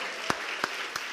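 A church congregation's applause comes through as three sharp, evenly spaced claps over a quiet room hum.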